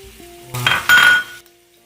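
Red onion hits a hot pan with a sudden sizzle and a couple of clinks from a utensil, lasting about a second before dropping back to a quiet hum of the stove.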